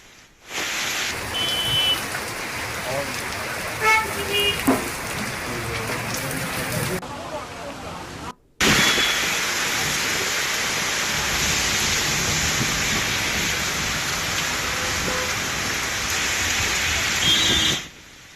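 Dense, steady hiss of heavy rain pouring down in Hyderabad, briefly cut off once, with faint voices buried in the downpour.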